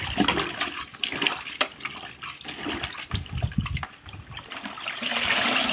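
A saree being hand-washed for the first time in water, with uneven splashes, sloshing and trickling gushes in close, moderate bursts, ending in a steadier pour of running water.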